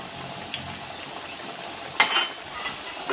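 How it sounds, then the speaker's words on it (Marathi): Corn cutlets deep frying in oil over a medium flame, a steady bubbling sizzle with a sharp utensil clink midway and a few softer scrapes. "आणि आपण मध्यम गॅसवर चांगले तळून काढायचा."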